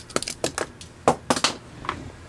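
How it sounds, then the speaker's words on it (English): A series of sharp, close clattering taps, a pen hitting and bouncing on a floor several times before settling. "That was the sound of my pen hitting the floor."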